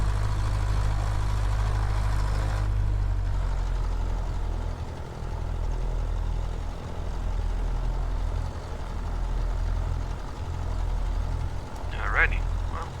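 Cessna 152 engine idling in a flight simulator game, a loud low steady drone that drops in tone after a few seconds and continues evenly to the end.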